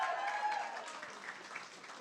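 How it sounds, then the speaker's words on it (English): An audience applauds and cheers at the Shock Radio Awards ceremony, a dense, continuous wash of clapping across the hall with a few raised voices, steady and fairly loud throughout. "Let's have a cheer for that."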